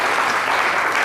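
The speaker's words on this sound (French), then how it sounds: "On l'applaudit." Audience applause on a French-language Senegalese women's comedy TV show, a dense steady clapping filling the whole short moment without pause.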